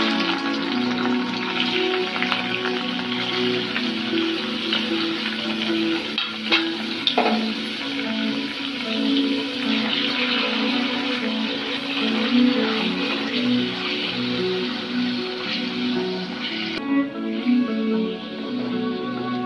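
Paneer masala being sautéed in ghee in a kadai, with a steady close sizzle and frequent stirring clinks and scrapes of a spoon, continuing with no talking.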